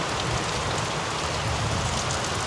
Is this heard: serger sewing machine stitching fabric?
no